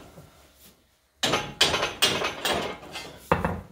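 Five sharp metallic blows of a hammer on a punch against steel while cutting square holes, ringing in an uneven rhythm close by after a quiet start.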